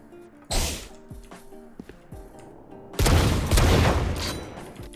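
Gunfire in the Valorant video game: one sharp, loud shot burst, then a couple of fainter clicks, followed by a denser rapid volley of close, punchy shots near the end.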